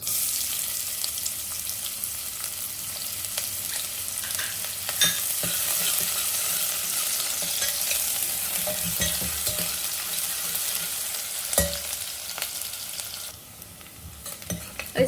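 Chopped onion sizzles and fries in hot oil with whole spices such as cinnamon, a steady crackling hiss with occasional stirring clinks of a spoon against the pan, continuous and close throughout.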